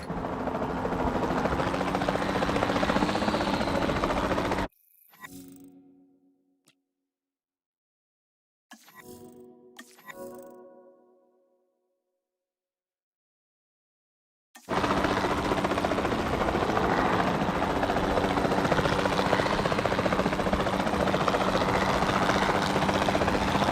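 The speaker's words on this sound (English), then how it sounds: "the sensible thing is to take a capture team helicopter" A capture team helicopter in Jurassic World Evolution 2 roars with a dense, steady rotor and engine wash, loud and close, cutting out briefly mid-way before resuming at full strength.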